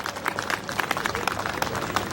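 Crowd clapping at a political rally in Khandar, Sawai Madhopur, a dense patter of many hands applauding steadily throughout, with a voice faintly audible over it.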